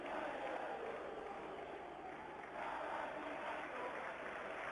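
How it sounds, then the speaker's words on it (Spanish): A large stadium crowd at a Boca Juniors versus Independiente del Valle Copa Libertadores semifinal roars in a steady, distant wash of applause and shouting that holds throughout. "la gente aplaude, la gente sigue gritando"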